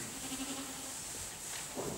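Dairy ewes on an organic school farm bleating in a flock, several overlapping calls at moderate distance over constant barn noise.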